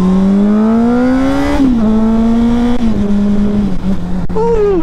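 A 2006 Honda CBR600RR sport bike engine revs loudly and up close, a sustained high-pitched whine rising and falling through several throttle blips with no talking.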